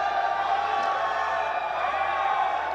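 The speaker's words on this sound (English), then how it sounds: "Crowd are enjoying it." A cricket crowd at an evening playoff match, Mirpurkhaas Tigers against Hyderabad Bahadurs in SPL Qualifier 1, makes a steady, dense roar of voices and cheering that holds at an even level throughout.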